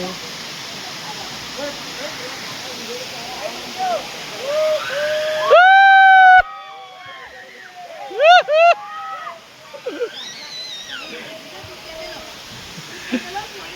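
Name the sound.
waterfall at Pavagadh, Vishwamitri river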